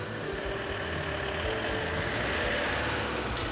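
A fire truck rolls into a station garage with a steady low diesel engine rumble and a brief air hiss, no voices.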